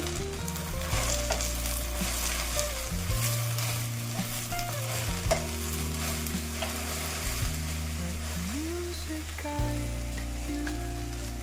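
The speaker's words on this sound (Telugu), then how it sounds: "నీరు పూర్తిగా ఆవిరై మెత్తగా అయ్యే వరకు మగ్గించుకుందామండి. ఒకసారి కలుపుతున్నాము." Gongura leaves stirred in a pan as they cook down, a steady loud sizzle with scraping stir strokes running throughout, under a low background hum and no talking.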